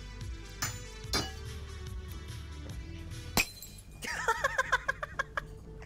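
Glass clinks and breaks in the video game Surgeon Simulator: ER, first a few scattered chimes over a droning backdrop, then a sharp crack followed by a rapid run of bright tinkling shards.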